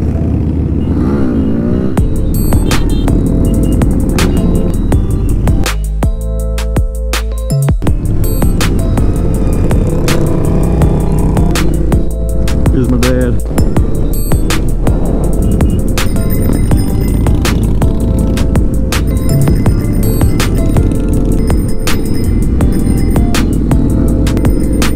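A ride of several hundred motorcycles at a Toys for Tots event, with a loud, continuous engine roar and rumble that surges and drones throughout, recorded up close and moving.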